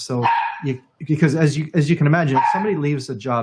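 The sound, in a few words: dog barking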